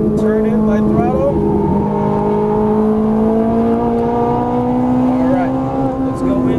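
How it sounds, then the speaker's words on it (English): A Ferrari 458 Italia engine drones loud and close on a race track at Exotic Racing Las Vegas, its pitch dipping and shifting through downshifts and then holding steady under light throttle, with a voice talking over it. "Straight, downshift, turn in, light touch, turn in, light throttle."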